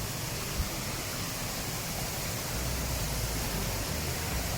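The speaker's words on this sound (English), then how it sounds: "Okay, check this out. This is the waterfall." The Campsie Fells waterfall makes a broad, constant roar of falling water that fills the whole scene evenly, with no talk over it.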